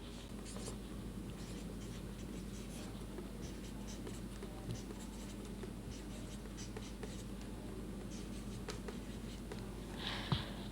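Faint, continuous scratching of writing on a board during a grammar lesson, with a soft knock near the end and no speech.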